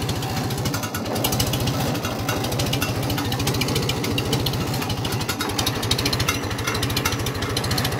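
A Farmall 350 tractor engine runs steadily after a choke adjustment, its rapid, even low firing pulses chugging loud and close without a break.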